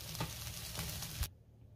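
Soya chunks frying in hot oil in a home kitchen, a soft steady sizzle with a couple of faint stirring knocks, quiet and close, cutting off abruptly near the end.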